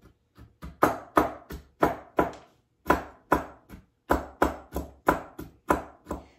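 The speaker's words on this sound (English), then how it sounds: "I've got a nice rough chop on some peanuts." Peanuts are rough-chopped with a mezzaluna on a board, giving a fast series of crisp, close rocking chops in bursts with brief pauses.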